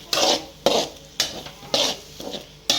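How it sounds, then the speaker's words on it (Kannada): Egg frying with honagone greens in a pan, with several sharp scraping stirs of a spatula in a steady rhythm over a soft sizzle, close and fairly loud, no talking. "ಸೊಪ್ಪು ಜೊತೆಲಿ ಮೊಟ್ಟೆ ಫ್ರೈ ಮಾಡ್ಕೊಳ್ಳೋಣ."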